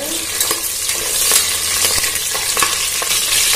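Green chillies fry in a hot pan on high flame, a steady close sizzle broken by repeated scraping strokes of a spoon stirring them.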